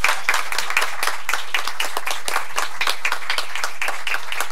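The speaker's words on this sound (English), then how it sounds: "give them a round of applause" Audience applause for veterans at an evening gathering before the Pledge of Allegiance, a dense steady clapping from a room full of people lasting several seconds without talk.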